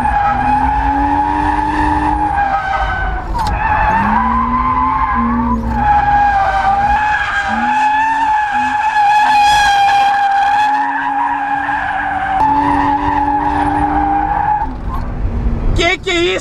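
BMW drift car sliding with continuous loud tire squeal that rises and falls in pitch through several long skids, engine roaring underneath and people talking over it.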